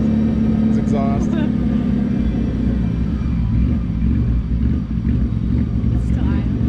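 A V6 Mitsubishi Evo X exhaust gives a steady, loud, low rumble throughout, with people talking over it.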